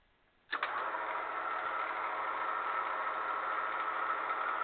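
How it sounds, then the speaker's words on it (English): Small lathe switched on for neck turning brass cartridge cases, an abrupt start after near silence settling into a steady even motor whine, close and alone. "We'll turn on our lathe."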